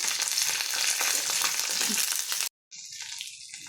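Green chillies and ridge gourd seeds fry in hot oil for a Telugu-style ridge gourd chutney, a dense, close, steady sizzle that cuts out briefly and returns slightly softer, with no voices.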